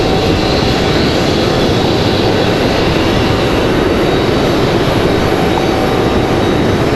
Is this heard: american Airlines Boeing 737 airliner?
yes